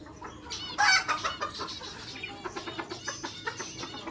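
Chickens clucking in a busy, rhythmic stream of short calls, one louder squawk near the start, fairly close with no talking.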